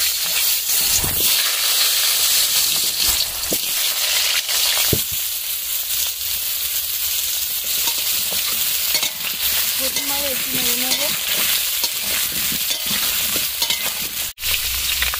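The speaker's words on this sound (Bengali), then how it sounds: "এবার আলুটা কড়ার মধ্যে দিয়ে দেবো।" Potatoes fry in a wok with a loud, dense, continuous sizzle and hiss, close up, broken by occasional scraping stirs and a few utensil knocks.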